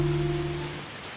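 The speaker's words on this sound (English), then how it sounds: "accompanied by rain that is becoming stronger and stronger" Rain falls on a daytime path, a broad hiss of drops that fills the scene. A low steady hum sits beneath it briefly before fading out.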